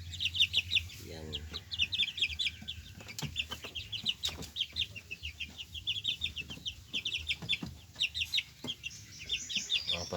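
A flock of Lemon Sweater chickens about a month old keeps up rapid, high peeping and clucking in steady bursts, nearby and fairly quiet, with a voice briefly heard among them.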